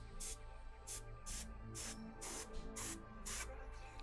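An airbrush lays a light white base coat on a foam cyberpunk helmet, giving short bursts of soft hiss, about seven evenly paced sprays, quiet and close over a faint steady hum.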